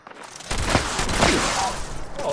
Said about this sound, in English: I'm crossfiring, right, between these 2 turrets